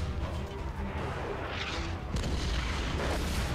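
A tank firing during play of the video game Valiant Hearts: heavy, rumbling artillery booms over a dense, low, continuous battle din, fairly quiet and with no voices.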